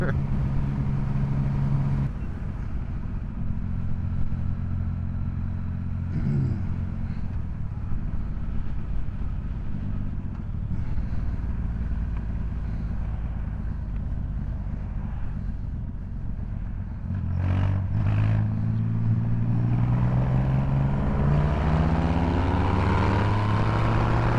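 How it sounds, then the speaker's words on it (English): An Indian Sport Chief 116 motorcycle accelerates hard past a Triumph Rocket 3, its loud engine drone rising in pitch over the final seconds amid steady wind rush, with a rider's voice faintly mixed in. "I accelerated past him."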